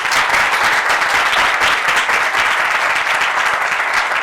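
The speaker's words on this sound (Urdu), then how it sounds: "زوردار تالی بجائیں" Loud, steady applause from a church congregation at a Sunday meeting in Lakhodial, dense clapping filling the whole stretch without a break and no talk over it.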